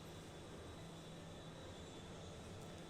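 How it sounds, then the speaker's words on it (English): Steady broadband roar of two Whiplash jet engines powering a craft at high speed in Kerbal Space Program, a continuous even drone with no breaks or talk. "those two Whiplash engines, I believe, are powering the craft right now"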